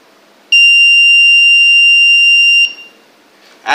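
A loud, piercing electronic alarm buzzer sounds as one steady high tone for about two seconds, then cuts off, followed by a short click.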